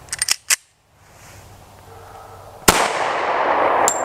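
A .40 Smith & Wesson handgun fires a single sharp, loud shot during a ballistics test with a chronograph, followed by a lingering bright hiss; a few quick clicks precede it and another brief click comes near the end.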